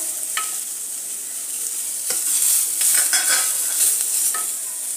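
Onion and cashews fry in a pan for restaurant-style paneer gravy, a bright steady sizzle with a few sharp spoon clicks and stirring scrapes close by.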